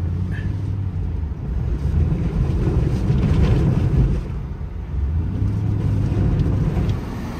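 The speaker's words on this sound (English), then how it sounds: "Listen to this wind." Hurricane Milton wind buffets a truck near the beach in Port Orange, Florida, a loud continuous low roar and rumble with surging gusts.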